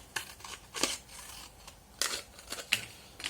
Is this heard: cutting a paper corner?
yes